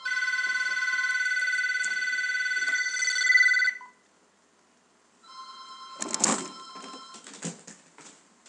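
A telephone rings in rapid repeated bursts for several seconds, stops briefly, then rings again amid clattering noise, heard during a Minecraft gameplay session.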